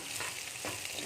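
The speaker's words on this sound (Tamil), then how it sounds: "வெங்காயம் கொஞ்சம் வணங்கட்டும்" Onions frying in a pan for a village-style drumstick-leaf dal, a brief close hiss of sizzling with a couple of stirring scrapes.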